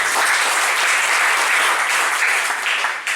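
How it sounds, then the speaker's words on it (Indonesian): An audience applauds steadily for about three seconds at a youth talk event, a dense wash of clapping with no talk over it, tapering slightly at the very end. "Tepuk tangan dulu dong."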